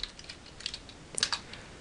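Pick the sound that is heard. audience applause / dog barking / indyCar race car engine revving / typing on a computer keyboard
typing on a computer keyboard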